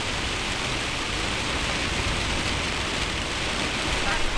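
Steady, dense rain hisses without a break, a loud, even wash of noise like a downpour drumming on a surface.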